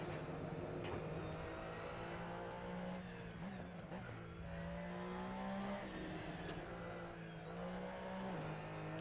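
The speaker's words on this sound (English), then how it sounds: "Touch on the brake. Downshift. Come in. Full throttle. Oh, it's sliding." A race car in Assetto Corsa, its engine droning and rising through revs, with brief tyre squeals as the car slides. The engine note runs steadily from start to finish with no talking.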